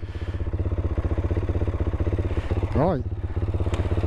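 A Herald Brute 500 motorcycle engine idles steadily up close, a fast even thrum running throughout, with a brief spoken word near the end.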